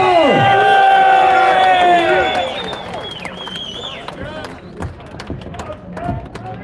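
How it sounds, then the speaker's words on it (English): A rally crowd cheers, whoops and claps loudly for a speaker being welcomed. The roar is strong at first, then settles into a lower rumble of scattered clapping and shouts. "please give a big round of applause for Stuart Roberts from Manchester"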